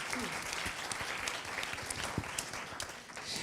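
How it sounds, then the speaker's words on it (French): An audience applauds steadily at a public talk on economic transition with Rob Hopkins, a dense, even wash of clapping lasting throughout with no voices over it. "Vous pouvez l'applaudir."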